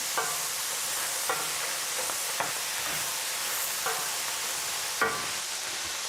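Anchovies frying in oil in a skillet, a steady bright sizzle with occasional stirring scrapes and small clicks, close and even throughout.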